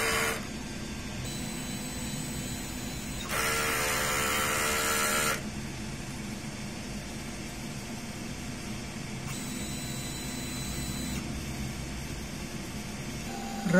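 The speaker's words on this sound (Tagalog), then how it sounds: "Ganito naman yung pag-head clean natin" A DTF printer's mechanism hums and whirs steadily during head cleaning, with a louder, higher-pitched motor burst in the middle and a brief tonal whine that comes and goes.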